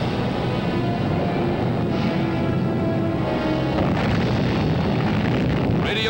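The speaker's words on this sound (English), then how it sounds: "Radioactive debris flies skyward from another underground explosion" Underground atomic test explosion throwing radioactive debris skyward: a dense, sustained roaring rumble, loud and unbroken for several seconds, with heavy wind-like noise.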